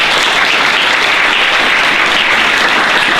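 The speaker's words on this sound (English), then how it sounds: "Let's give a round of applause, Monica." A convention audience at San Japan 2014, during a magical girl bootcamp panel, claps for a costumed participant: loud, continuous massed applause filling the whole three seconds without any break.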